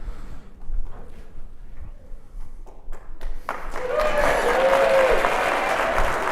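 Audience applause breaks out at the Ash Carter Exchange talk, starting sparse and scattered before swelling into loud, sustained clapping from the whole room.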